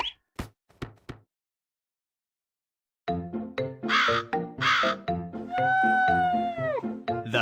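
Crows caw in a fable setting, repeated harsh calls with several separate caws after a silent gap, then dense overlapping bird calls and tonal sounds filling the rest, loud and close.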